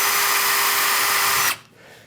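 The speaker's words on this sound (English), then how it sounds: "So I'm drilling in the center." A power drill bores into wood with a steady, loud high-pitched whine for about a second and a half, then cuts off abruptly, leaving quiet room tone.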